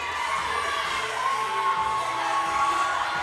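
A loud crowd of fans at the Burn Boot Camp Athlete Games 2024 fitness competition cheers and shouts steadily, the excited roar sustained without a break for the whole moment.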